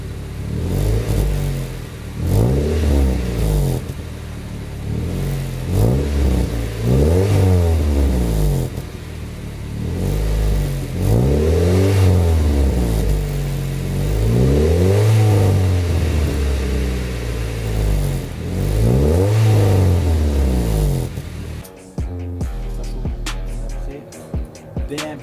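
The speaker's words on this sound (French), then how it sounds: "On va faire un premier démarrage, chicane fermée pour écouter un peu le son" Motorcycle fitted with an SRS G55 silencer with the baffle closed, starting and then revving repeatedly in loud rising and falling sweeps before settling, heard close up.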